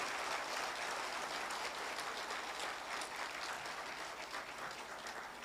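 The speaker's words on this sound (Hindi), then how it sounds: "तो एक बार जोर से ताली बजाइएगा" An audience at an insurance agents' event in Nagpur applauds in a dense, steady patter of many hands, heard from some distance and slowly fading.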